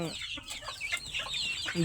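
A free-range country chicken clucks in short bursts close by, with a soft rustle of other fowl in the background.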